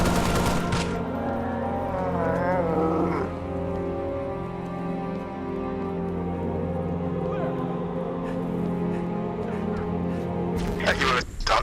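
Gunfire and explosions fill a Halo Reach co-op mission, loud and continuous, with bursts of shots mixed under dense game sound and character voices.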